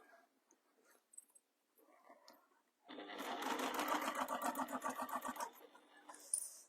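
A sewing machine stitching a faux leather bag runs in one steady, close burst of rapid mechanical chatter lasting a few seconds, preceded by faint small handling noises and followed by a quick click.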